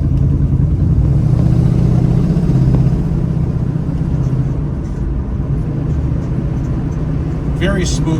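A 1972 Plymouth Barracuda cruising down the road, its engine a steady low rumble with road noise throughout, close and fairly loud, with talk over it and a brief clatter near the end.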